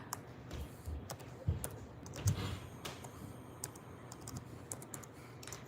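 Fast, irregular typing on a computer keyboard, likely hampered by long nails, with quiet clustered key clicks and a few louder taps over low room hum; no talking.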